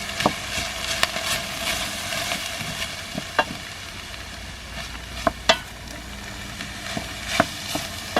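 Minced meat sizzles and fries steadily in a pan on an induction hob in a campervan, with a constant hiss broken by occasional scraping clicks and taps as it is stirred.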